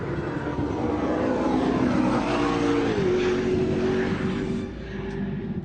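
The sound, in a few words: McLaren P1 supercar engine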